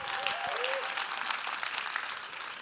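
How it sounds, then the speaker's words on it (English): Steady applause from a crowd at a student business pitch event, loud and continuous with a faint whistle or cheer near the start. "Let's get a round of applause"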